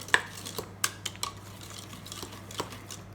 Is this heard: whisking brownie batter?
yes